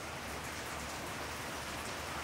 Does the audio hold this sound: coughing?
no